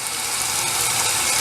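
Hot water runs steadily from a house sink tap, a continuous broadband hiss of flow close by with no break and no voices.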